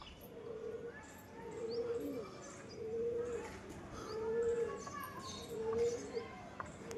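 A pair of pigeons coos in repeated low, rolling phrases, about five in a row, fairly near, over a steady outdoor background with faint chirps above.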